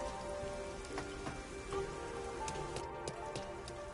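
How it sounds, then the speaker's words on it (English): Rain falling in the video game Master Detective Archives: Rain Code, a steady close patter of drops on surfaces with scattered sharper drips and a faint musical tone underneath, no voices. "I'm starting to feel like the rain isn't so bad"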